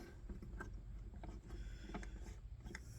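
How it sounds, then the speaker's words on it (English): A reloading case trimmer is set against a brass cartridge case, making faint metallic clicks and light scraping taps that come and go over a low background hum. "Put our trimmer right against it here, just like this."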